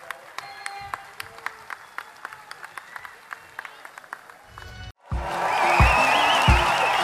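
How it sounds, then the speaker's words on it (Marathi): A crowd at a political rally breaks into loud, sustained applause to welcome a speaker. It begins after a brief silence, following scattered mic clicks and quiet talk. "त्यांचं सर्वांनी टाळ्या वाजवून स्वागत करावं"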